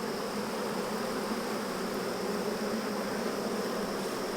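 Honey bees from a healthy colony buzzing in an open hive, a dense, steady drone from many insects that stays close and even throughout, with no talking.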